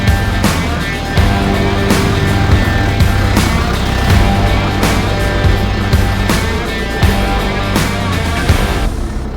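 A big tractor's diesel engine runs steadily and loudly, a deep rumbling drone with repeated surging throttle changes and clanking knocks, heard close without talk.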